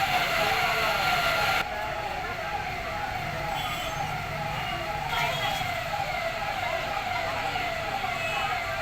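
A fire brigade engine's siren wails in a steady, repeating rising and falling tone, loud and sustained, with traffic noise beneath, while crews respond to a blaze at a bicycle shop in Chhattisgarh.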